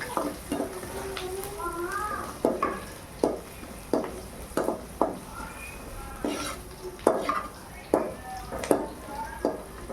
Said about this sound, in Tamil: குழம்பு தேவையான வெங்காயம், எல்லாத்தையும் நல்லா கருடாமல் வறுத்துக்கணும்